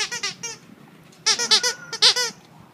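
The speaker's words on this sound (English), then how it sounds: "Do you like the squeaky toys?" Rubber dog squeaky toys squeak in rapid bursts at a shelter, a quick trio of squeaks, a pause, then two louder clusters of squeezes close by, with no talking.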